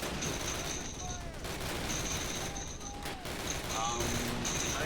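Gunfire in Call of Duty (2003) as dense continuous battle noise, rapid overlapping shots forming a steady loud wash with faint whizzing sounds on top.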